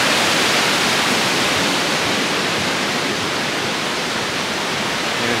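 A tributary of the Dan River rushes steadily, a dense, continuous roar of flowing water with no pauses and no voices.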